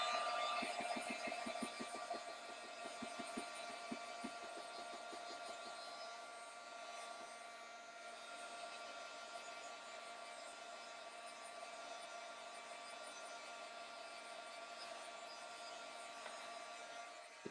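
A heat tool heat-sets a mixed media card with a steady, close whirring blow that runs continuously. A rapid buzzy flutter marks its first few seconds.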